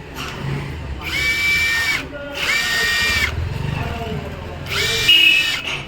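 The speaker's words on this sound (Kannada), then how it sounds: "ಇದೇ ನೋಡಿ ಸ್ನೇಹಿತರೆ, ವೋಲ್ಟ್ ಟು ನೆಟ್ ಬಿಚ್ಚಕ್ಕಂಥ ಮಿಷಿನ್." A cordless 21V bolt-removing power drill with a 4Ah battery whirs in three close, loud bursts of about a second each, a high motor whine separated by short pauses, with someone talking in between.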